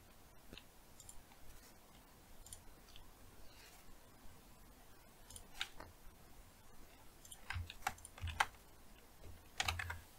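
Keystrokes on a computer keyboard during a hacking exercise, a faint scattered patter of clicks with a few sharper bursts near the end, alone with no talk.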